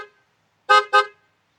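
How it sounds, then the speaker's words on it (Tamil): Paizo brand car horn on a modified car, sounded in two short, loud, bright blasts in quick succession after a brief initial toot, close and clear with no talking. "அந்த ஹார்ன் தான் போட்டிருக்காங்க. அதை சத்தம் எப்படி இருக்குன்னு கேளுங்க ப்ரோ."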